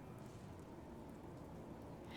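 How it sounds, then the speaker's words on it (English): Soft, steady rain pattering in the video game Death Mark, a dense, even hiss of drops at low volume that holds constant throughout with no talking. "The soft pitter-patter of rain permeates the area."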